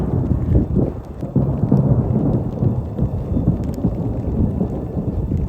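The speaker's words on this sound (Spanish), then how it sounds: "la tormenta eléctrica está tremenda" Thunder rumbles through an electric storm facing Guatemala's erupting Volcán de Fuego, a continuous loud low roar with steady rain and wind buffeting across the whole stretch, no voices.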